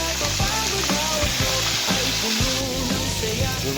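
Fish and squid fry in a hot pan with dense, continuous sizzling and crackling. The bubbling spatter holds at an even level throughout, with a few soft clinks of stirring and no talk.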